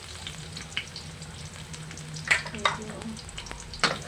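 Garlic sizzles in cooking oil for a Filipino chicken, green peas and potato dish, a soft steady crackle broken by a few sharp clinks of a utensil against the pan and a short spoken word.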